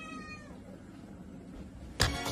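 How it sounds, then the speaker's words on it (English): A cat meows softly in a short drawn-out call at the start, followed by quiet background and a sudden louder burst near the end. "Oh, cute cat."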